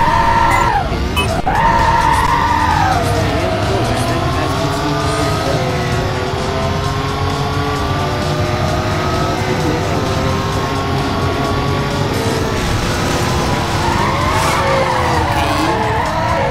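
In a PSP racing game, a race car engine drones loud and steady with gliding pitch shifts as the tires let out long, screeching skids throughout, with no pauses.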